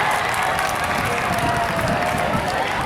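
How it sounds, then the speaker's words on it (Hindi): Audience at a school Republic Day celebration claps and cheers in a dense, continuous wash of applause at steady loudness, with a crowd murmur underneath. "जोरदार तालियां"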